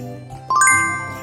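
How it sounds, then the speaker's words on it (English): A short bright doorbell chime rings once over a soft musical backing, its bell-like tones clear and near. "Ring the doorbell."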